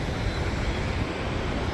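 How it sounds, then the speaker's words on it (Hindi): A waterfall on the Gaurikund to Kedarnath mountain trek gives off a steady, broad roar of falling water, constant and fairly loud throughout with no pauses. "झरना, वाटरफॉल।"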